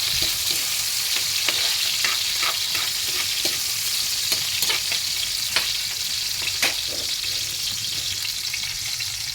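Vegetables sautéing in a home kitchen pan for pakbet with malunggay, a steady close sizzle and frying hiss with repeated scrapes and clicks of a stirring utensil, no talk.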